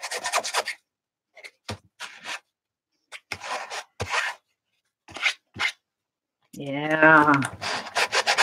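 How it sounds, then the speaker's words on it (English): Scraping strokes across an art journal page come in short, separate close-up bursts with silent gaps between them, and a brief voice is heard near the end. "you're going to get the scraping sound here"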